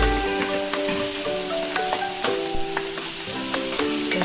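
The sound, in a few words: garlic cloves frying in oil for prawn head curry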